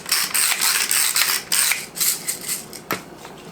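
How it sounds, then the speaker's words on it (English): Sur La Table ratchet pepper grinder cracking peppercorns in a home kitchen: a rapid series of close, crisp ratcheting clicks and grinding crunches in uneven bursts, ending with one sharp click. "you haven't seen my pepper grinder, this is from Sur La Table, and I love it because of the ratchet"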